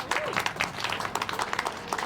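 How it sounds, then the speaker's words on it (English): Crowd applause at a bridge dedication ceremony, a dense continuous patter of many hands clapping at moderate distance, fairly soft and unbroken. "Please get a round of applause."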